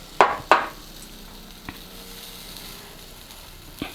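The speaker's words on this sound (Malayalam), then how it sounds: "നമ്മുടെ മാവ് കോരി ഒഴിച്ചിട്ട് ചുട്ടെടുക്കാം" Batter cooks in ghee on a hot pan with a low, continuous sizzle, opened by two sharp utensil knocks and followed by a few lighter taps.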